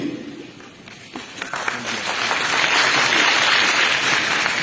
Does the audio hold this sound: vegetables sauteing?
no